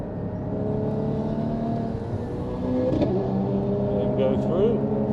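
A Porsche Cayman 981 GT4 drives on a race track, its engine droning steadily from inside the car and rising in pitch as it accelerates, with a voice talking over the engine.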